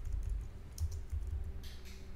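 Soft keystrokes on a computer keyboard, a short run of quiet taps and clicks heard close up, with no talking.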